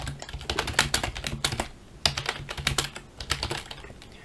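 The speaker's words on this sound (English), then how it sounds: "the sound of this loud and obnoxious keyboard" Loud, clacky typing on a Mountain Everest Max mechanical keyboard, with rapid, uneven keystroke bursts close to the microphone, heard alone.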